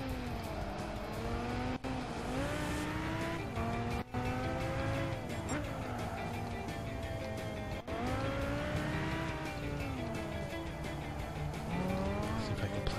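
Race car engine from Gran Turismo 5 on a course with an added chicane, continuous loud engine whine rising and falling through gear changes, with tire squeal and a commentator's voice running over the top.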